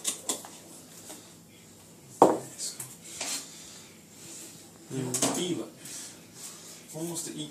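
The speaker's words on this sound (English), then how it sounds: "Finish off chopping this garlic." Garlic being chopped in a busy kitchen, with scattered knife taps and clinks of pans and utensils coming in irregular bursts while people talk nearby.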